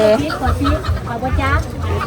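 Chickens cluck in repeated short bursts, fairly loud and close, mixed in with people talking.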